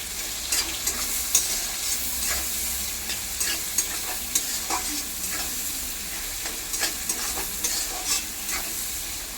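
Tomatoes and onions fry with turmeric in a pan, a steady dense sizzle with scattered sharper crackles and pops from spatula stirring throughout, no voices.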